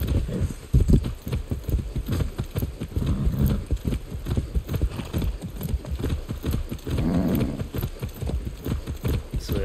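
Steady clip-clop of horse hooves trotting in the video game Far Cry 6, dense and rhythmic, close by and moderately loud throughout.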